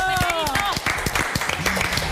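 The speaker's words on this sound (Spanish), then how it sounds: "Fuerte aplauso" Brief audience applause on a television variety program, with quick claps cutting through a short burst of cheering voices and a sung or shouted tone at the start.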